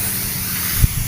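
A hand sprayer hisses in a steady, close spray, with a brief thump near the end, with no talking.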